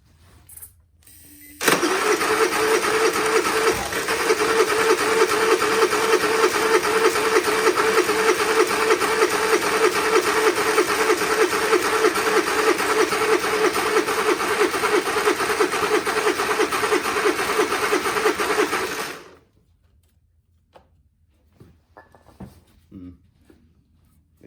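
Honda inverter generator engine cranking and catching, running at a steady mid-pitched drone for about seventeen seconds before cutting out abruptly into near silence with faint handling noises.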